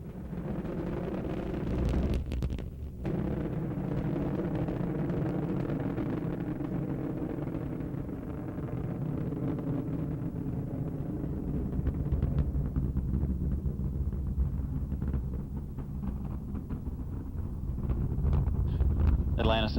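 Space Shuttle Atlantis main engines roar in a deep, sustained low rumble with wind buffeting during the STS-71 launch, steady and distant, with a voice talking over it.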